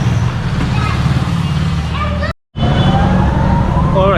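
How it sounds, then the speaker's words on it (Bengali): Busy city road traffic at night, with a steady roar of passing cars and motorbikes, a siren-like tone rising near the end, a brief dropout in the middle, and faint talk underneath. "পাশে মেবি অ্যাম্বুলেন্সের গাড়ি ছিল, মোটামুটি গাড়ি চলতেছে রাস্তায়"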